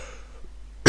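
One sharp cough from a man with a cold bursts out loud and close at the very end, after a brief quiet stretch.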